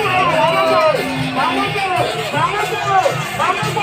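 Dense crowd hubbub at the Jagannath Rath Yatra chariot festival in Odisha, a steady close wash of many overlapping voices and shouts with no pause for the full length.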